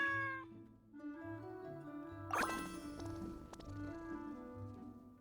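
A cat meows in the video game Genshin Impact, a short plaintive call rising over a gentle melodic game soundtrack with chiming notes, heard clearly and alone without speech.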